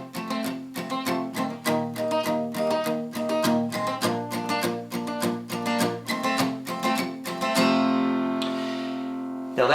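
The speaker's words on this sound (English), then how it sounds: "mute the strings as you play the chord" Palm-muted acoustic guitar strumming of the chords to a song, steady rhythmic muted strokes up close, ending on a ringing, let-open strum.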